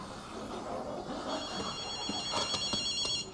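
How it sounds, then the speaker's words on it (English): A telephone rings in the video game Ghostwire Tokyo, with several short repeated ring bursts rising over quiet game ambience in the latter half. "You might hear a phone."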